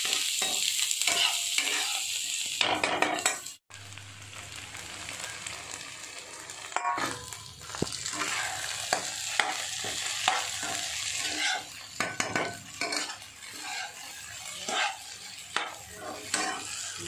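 Sago pearls fried in a pan, stirred with a utensil in a home kitchen, giving steady sizzling and frying crackle with repeated scraping stirs running continuously at close range, with no talk.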